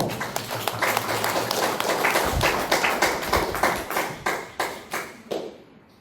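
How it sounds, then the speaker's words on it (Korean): A church congregation at a Sunday service applauds in thanks. The clapping is close and even, settles into rhythmic claps, then fades away. "우리 박수로 감사의 박수로"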